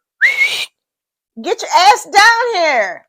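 A man gives a short rising whistle, a single clear blast, then shouts loudly right after.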